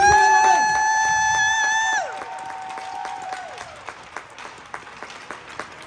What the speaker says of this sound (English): une bonne main d'applaudissement pour nos deux finalistes